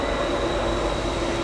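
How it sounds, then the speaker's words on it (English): A train passes very close by on a track near Glacier National Park, giving a loud, steady rumble with a thin high squeal and no pauses. "the train is very close right here."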